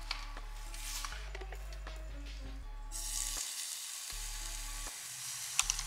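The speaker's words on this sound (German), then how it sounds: "Hier siehst du, wie das brutzelt." Hot material sizzles on a Peugeot RCZ headlight during a DIY blackout conversion, a steady crackling hiss close up with faint background hum, no voices.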